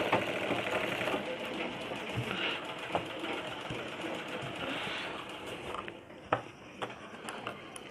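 A sewing machine stitching a lungi seam: a continuous close mechanical whirring and clatter of the running needle with a few sharp clicks near the end.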